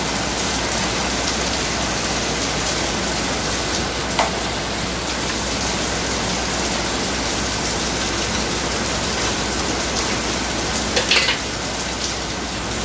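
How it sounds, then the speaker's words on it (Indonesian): Heavy rain pours down steadily over a car repair workshop, a dense, loud, unbroken hiss with a few brief clanks of tools and no talk. "Hujan deras pemirsa."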